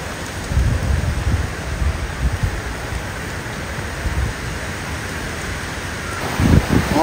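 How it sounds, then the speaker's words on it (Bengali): Heavy rain starting up outdoors in gusty wind, a thick steady rushing wash with low rumbling gust swells, loud and unbroken, without voices. "অনেক জোরে বৃষ্টি চলে আসছে"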